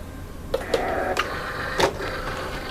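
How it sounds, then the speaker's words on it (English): A craft cutting machine adjusting itself and loading a cutting mat, giving a soft motor whir with several clicking mechanical clunks, close and fairly steady without speech. "The machine is going to adjust itself and make sure everything is taped down as tightly as possible"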